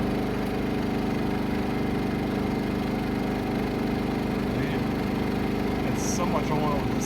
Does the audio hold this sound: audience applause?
no